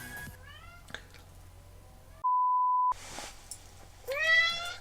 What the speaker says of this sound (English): I heard you meowing.